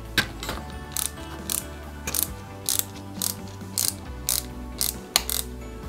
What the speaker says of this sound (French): à l'arrière on va y mettre 2 vis, donc 2 vis AP